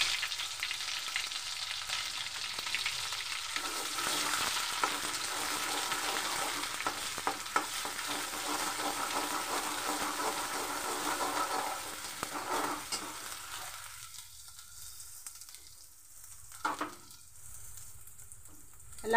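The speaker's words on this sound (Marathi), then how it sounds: "तेल टाकलाय, मसाला टाकते." Masala spices sizzle in hot oil in a pan with dried bombil fish and potatoes, a close, steady frying hiss with stirring that fades to quieter crackles near the end.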